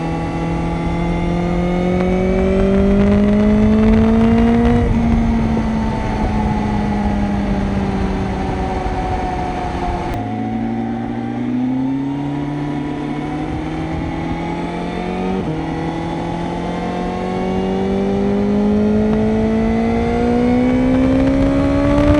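A 2026 BMW M1000R motorcycle engine accelerates hard and close, its pitch climbing steadily. Gear shifts break the rise around midway and again later, then the engine keeps winding up, loud and with no talk over it.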